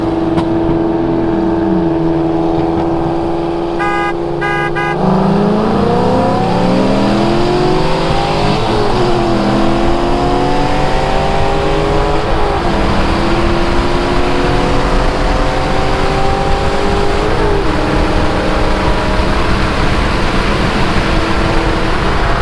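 A stock F80 car accelerating hard in a roll race, its engine note climbing loud and close through repeated gear changes, each shift dropping the pitch before it rises again, with steady road and wind roar beneath.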